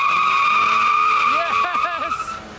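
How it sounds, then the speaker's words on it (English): A 2019 Volkswagen GTI with front-wheel drive spins its tires on a launch-control start, giving a loud, sustained high tire squeal up close, with a voice cutting in over the squeal toward the end. "with front wheel drive, it makes launch control useless in my opinion, because you get nothing but tire spin"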